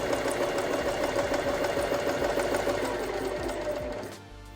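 Sewing machine stitching a straight seam on a garment, a steady fast mechanical whir with rapid needle pulses running continuously up close, then slowing and stopping at the end.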